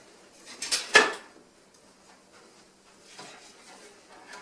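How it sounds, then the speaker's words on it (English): Spoon stirring a seasoning pack into rice pilaf in a pot, a few quick scraping clinks up close, followed by faint scattered rustles. "I'm going to stir it."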